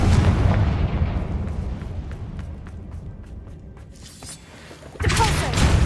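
Confringo explosive spell cast in Hogwarts Legacy, a loud booming blast at the start that rumbles and fades, followed by a second sharp burst near the end.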